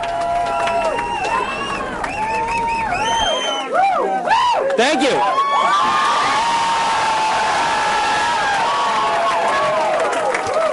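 A campaign headquarters crowd of supporters cheers, whoops and applauds loudly and continuously around a Rhode Island gubernatorial winner, with a voice briefly speaking over the din.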